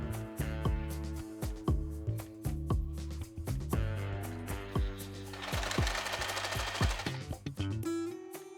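Sewing machine stitching shirred dress fabric with a bobbin and long stitch length, a close, steady run of rhythmic mechanical thumps and whirring that speeds up in the middle and then slows again, without any talking.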